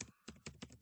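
Short burst of computer keyboard typing, several quick keystrokes in a row, close and fairly quiet, as Python code is entered.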